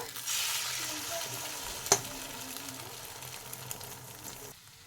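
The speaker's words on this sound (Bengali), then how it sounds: "ডিমটা ভালো করে আমি উল্টে পাল্টে ভেজে নেব" Eggs sizzle and crackle in hot oil in a wok as they are turned and stirred, a steady close frying hiss with one sharp clatter of a spatula midway.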